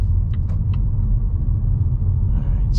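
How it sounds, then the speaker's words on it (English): Inside a 2023 Volvo S60 B5 under full-throttle acceleration, a loud, steady low engine and road rumble fills the cabin, with a few faint ticks and no talking. "mash the throttle, and see how fast we get up to speed."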